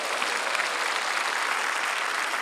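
A big crowd claps at an outdoor prayer rally on the War Memorial plaza in Seoul, a loud, continuous, even roar of many hands with no voices above it.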